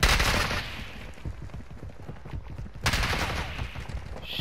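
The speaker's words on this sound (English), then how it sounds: "Getting sniped at." Rapid volleys of sniper and rifle fire in a multiplayer shooter game crackle continuously, loud and dense, with a sharper fresh burst of shots partway through.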